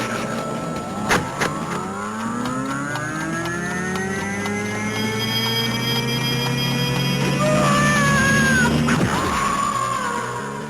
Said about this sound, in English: So the mechanical cat is back.